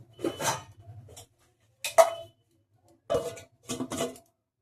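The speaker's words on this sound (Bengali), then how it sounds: "এবং আমি ঢাকা দিয়ে দেবো।" A lid is set on a pot of mutton cooking on the stove: four short, separate clattering knocks spread over a few seconds, close and moderately loud, with quiet gaps between them.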